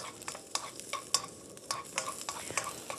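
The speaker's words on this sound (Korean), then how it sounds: "그다음에 대파를 먼저 넣어주세요." Chopped green onions sizzle softly in oil to make scallion oil, while a spatula stirs them with repeated taps and scrapes against the pan, heard close but fairly quiet.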